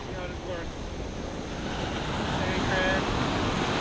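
Ocean surf washes onto the beach at Santa Monica, a steady broadband roar swelling louder toward the end, with wind buffeting the microphone and faint voices in the background.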